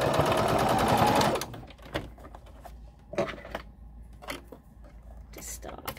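A sewing machine sews a fabric face mask, a dense close whir for about a second, then stops; scattered clicks and fabric handling follow with quiet pauses.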